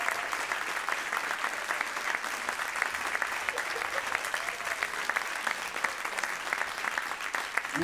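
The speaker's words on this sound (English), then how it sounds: "one more round of applause for your for our symphonic, our cadet, our jazz" A school music concert audience applauds the symphonic, cadet and jazz band students in a dense, continuous wash of clapping that stays loud and even throughout, with occasional voices faint beneath it.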